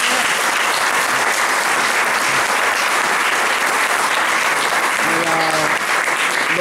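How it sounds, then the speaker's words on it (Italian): Audience applause at a talk in Buccino, a sustained, even wash of many hands clapping throughout, with a few faint voices surfacing near the end. "però un applauso lo merita"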